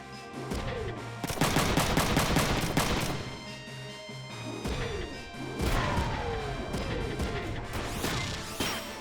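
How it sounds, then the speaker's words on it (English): Mech weapons in Front Mission 3 firing in loud bursts of rapid shots and heavy impacts. The volleys come in clusters with brief pauses between them, plus occasional descending whooshes. "they're all shooting at Kazuki because he can't shoot back"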